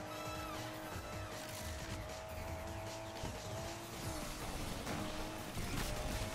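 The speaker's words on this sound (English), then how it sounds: "That's a good drift." Tires squeal steadily as a Nissan Skyline R32 drifts in NFS Unbound, the screech layered over a loud revving engine, sustained and close for several seconds.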